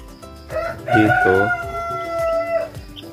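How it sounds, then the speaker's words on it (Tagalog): A Rhode Island Red cross broiler rooster crows one loud, close cock-a-doodle-doo. Softer clucks and chicken calls come from around it. "Ito na mga chicken, no?"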